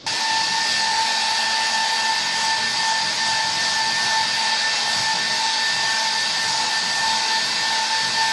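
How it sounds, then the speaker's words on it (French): A hair dryer blows steadily to dry a watercolour poppy painting, a loud continuous whirring hum with a high whine that holds unchanged from start to finish, with no voices. "quand ce sera sec, alors un petit coup de sèche-cheveux peut-être"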